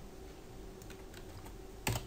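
Soft, scattered keystrokes on a computer keyboard during AutoCAD drafting work, faint under a steady room hum, ending with a single sharper key press.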